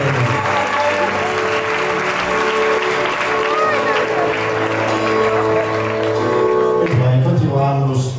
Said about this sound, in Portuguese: Palmas para a Rota Coliforme.